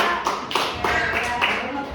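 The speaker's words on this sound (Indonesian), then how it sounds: "Tepuk tangan untuk mereka bertiga" A classroom of students claps for three classmates, a short burst of distinct, fairly close hand claps in a loose rhythm of about six beats over two seconds, with faint voices underneath.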